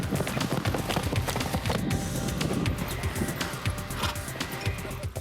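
Hooves of two Lusitano horses, Dante and Cuba, clop in a fast, busy rhythm at a stunt-riding yard in Buckinghamshire, England, mixed with broad rustling noise and no talk.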